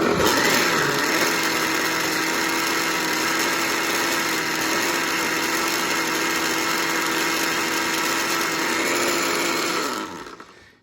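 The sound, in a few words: blender mixing salsa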